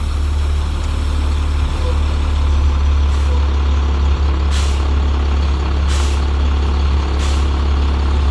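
First Student school bus with air brakes parked and idling loudly, as its parking brake releases in several short, sharp hissing bursts of air over the constant engine rumble.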